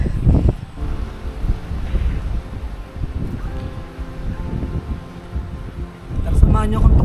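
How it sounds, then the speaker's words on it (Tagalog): Strong, thin mountain wind on Mt. Malindig in Marinduque rumbles and gusts against the microphone in uneven surges, with a faint voice briefly present. "Ang lakas ng hangin pero ang nipis na."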